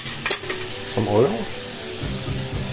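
Oil goes into a hot pan with squished sausage for a salsicca spaghetti sauce, giving a short burst of sizzling and frying with a few clinks and stirring noises, close and fairly loud.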